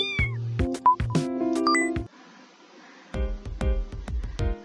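Cartoonish cat meows from the video game Wholesome Cats 2, several short tonal mews in quick bursts, a pause of near quiet, then a flurry of rapid meows, loud and close with no talking.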